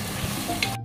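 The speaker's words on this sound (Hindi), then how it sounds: "पहले हम इसको भून लेते हैं योगर्ट को" Yogurt being fried with boneless chicken in a pan for a spiced masala dish, a steady close sizzle with light stirring scrapes, ending abruptly.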